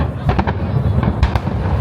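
Fireworks display in Yokohama, Japan, with loud overlapping booms and crackling bursts in quick succession, continuous and close throughout the short stretch.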